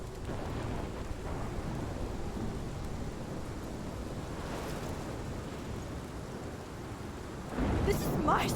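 A thunderstorm in the Life is Strange video game: heavy rain keeps up a steady roar throughout, with a deep rumble swelling near the end.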